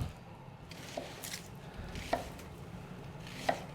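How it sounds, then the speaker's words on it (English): A knife slicing an onion into big strips on a board, a few soft crunchy cuts with sharper taps at intervals, close and fairly quiet, without voices. "we're gonna do pretty big strips"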